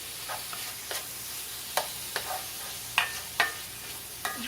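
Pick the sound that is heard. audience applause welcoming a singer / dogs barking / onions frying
onions frying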